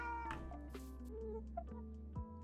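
A cat meows in the video game Minecraft, several short close meows in quick succession over a steady low background hum, with no talking.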